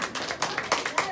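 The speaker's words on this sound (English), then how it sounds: "Give him a round of applause, ladies." Children in a classroom clap a brief, quiet round of applause, a handful of separate claps in loose rhythm over about a second, fairly soft and close.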